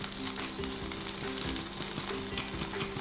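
Takoyaki batter sizzles and fries steadily in the round hollows of a hot takoyaki pan, a close, continuous crackle with no voices.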